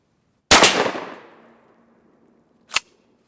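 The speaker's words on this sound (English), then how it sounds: "Let's see if the 12 gauge works." A 12 gauge shotgun loaded with frozen shells fires one loud, sharp blast that rings out and decays over about a second, followed by a short metallic clack.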